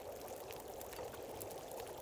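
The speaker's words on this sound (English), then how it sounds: "Drink a little bit of water first." Water pours and trickles steadily in The Long Dark survival game as the character drinks, a short continuous liquid sound heard alone and fairly quiet.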